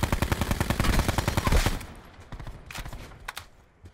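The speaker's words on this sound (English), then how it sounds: "Oh, I'm getting shot from 20 different ways." Rapid automatic gunfire in the video game Call of Duty Black Ops Blackout, loud and close for about a second and a half, then scattered fainter shots trailing off.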